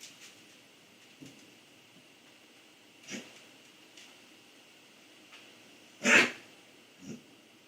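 A dog sneezes indoors, a few short, scattered snorting bursts over quiet background hiss, with one noticeably louder, sharper sneeze near the end.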